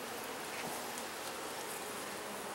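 Honey bees on hive frames make a dense, continuous buzzing hum, close and steady throughout with no talk.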